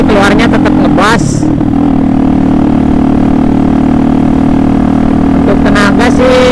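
A Satria FU motorcycle with a CLD C1 scooter-style exhaust fitted with a dB killer idles with a steady, deep low drone close to the microphone, and someone talks over it at the start and end.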